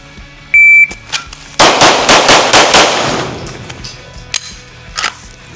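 Pistol shots ring out in a rapid string of about six sharp reports during a timed shooting drill, preceded by a shot-timer beep and followed by fainter metallic clinks.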